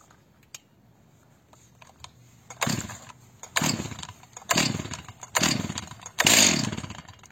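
A Stihl 361 chainsaw is pulled and revved in a series of about five loud bursts, each engine roar rising sharply then fading, spaced roughly a second apart after a quiet start.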